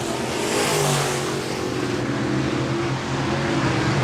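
B-Modified race cars roar around the dirt oval at Park Jefferson Speedway during a heat race, a steady loud drone of engines with several cars blending together and no voices.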